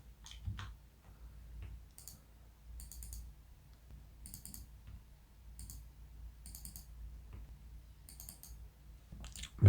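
Quiet, sparse computer mouse clicks while working in Excel, single and paired taps at irregular intervals over a faint low room hum, with no talking.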